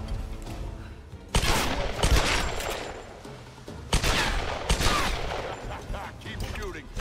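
Bursts of rapid automatic gunfire in the Tomb Raider video game, two long loud volleys separated by quieter stretches, with a voice talking in between.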